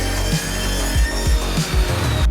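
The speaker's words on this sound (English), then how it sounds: "When you're using a track saw on your brand new workbench that you've just made" A track saw cuts through plywood or scrap wood on a newly built workbench in a woodworking workshop, giving a steady close mechanical whine with rhythmic low thumps and a brief bump at the end.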